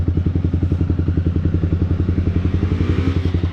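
A Yamaha R15 V4 motorcycle with an Akrapovic exhaust idles close by, its exhaust beating out rapid, even, loud thumping pulses in a steady rhythm.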